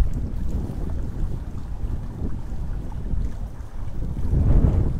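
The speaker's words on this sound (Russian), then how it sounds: "Так, мне кажется, ветер поднимается. Может быть, меня не будет слышно." Steady wind buffeting a microphone outdoors, a constant low rumbling roar that swells louder near the end, with no voices over it.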